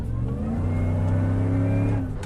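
A built, supercharged 2019 GMC Yukon Denali with Kooks headers, a Y-pipe and a MagnaFlow catback exhaust revs hard and close, a loud deep sustained engine roar rising and then easing off.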